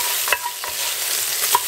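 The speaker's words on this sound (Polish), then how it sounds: "smażę dalej boczek tym tłuszczem, żeby był taki kolor rumiany" Bacon frying in a pan in its own fat, with a spoon stirring it in a few brief scraping bursts over a steady, fairly quiet sizzle; no one speaks.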